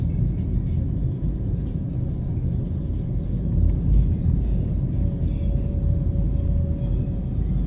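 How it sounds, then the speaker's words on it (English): Steady low engine rumble and road noise from inside a car driving through the town of Ocho Rios, Jamaica, continuous and even throughout with faint distant sounds over the drone and no talking. "this is a drive through the town of OCHO RIOS."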